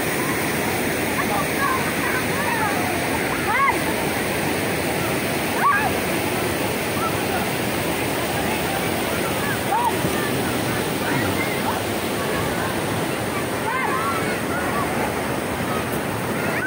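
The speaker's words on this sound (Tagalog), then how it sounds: "Tugunan Falls." Tugunan Falls in Agusan del Sur pours with a broad, steady roar of falling water, filling the scene continuously, with occasional faint voices and splashes of people bathing mixed into the rush.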